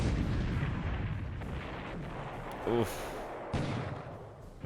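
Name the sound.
naval gunfire in video game War in the Pacific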